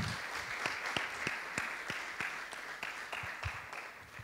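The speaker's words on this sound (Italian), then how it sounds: "Un applauso a Rosaria." An audience in a festival hall applauds a speaker named Rosaria with moderate, steady clapping, individual claps standing out sharply over the crowd.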